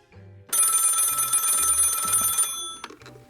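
An old-style telephone bell rings loudly and continuously for about two seconds, then stops, with a few low thumps around it.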